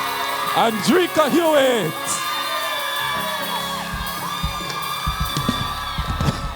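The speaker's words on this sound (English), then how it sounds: "Cheer her up, man, as she goes to collect her award" Graduation ceremony crowd at a boarding school cheering and whooping as an award winner is announced, with shouts and a speaking voice over the sustained crowd noise.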